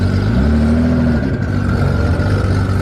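A drag racing car engine at a no-prep drag strip, loud and steady with a rising rev around the first second, then holding a continuous roar.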